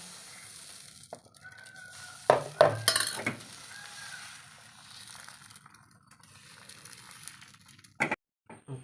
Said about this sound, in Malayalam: നമുക്ക് മാവ് ഒഴിച്ച് കൊടുക്കാം.